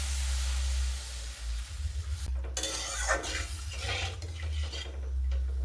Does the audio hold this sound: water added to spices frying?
yes